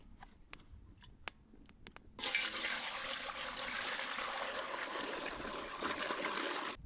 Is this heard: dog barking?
no